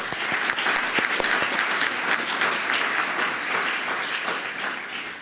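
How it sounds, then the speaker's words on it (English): An audience applauds for Heather at an MSU MAET recognition ceremony, a steady, dense round of clapping from many hands that holds at full strength for about five seconds before thinning slightly at the end. "Let's also give Heather a big round of applause."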